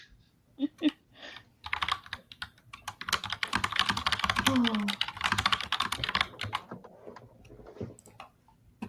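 An intense burst of rapid typing on a computer keyboard, dense clicking keys, close and steady for several seconds, with a brief spoken interjection at the start and quiet room tone.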